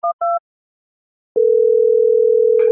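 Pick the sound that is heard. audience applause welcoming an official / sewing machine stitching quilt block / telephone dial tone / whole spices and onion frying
telephone dial tone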